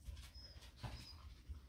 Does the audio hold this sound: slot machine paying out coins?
no